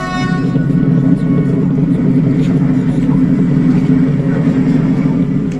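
Engine noise from passing cars and other motors forms a steady, loud, low rumbling drone that holds without letup throughout.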